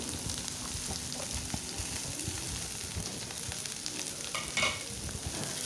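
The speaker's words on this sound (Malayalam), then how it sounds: "ഇനി നമ്മൾ ചെറുതായിട്ട് അരിഞ്ഞു വെച്ചിരിക്കുന്ന സവാള കൂടി ഇങ്ങ് ചേർത്ത് കൊടുക്കാം." Chopped onions sizzling in hot coconut oil in a pan, a steady close crackle and fry with occasional stirring clatter.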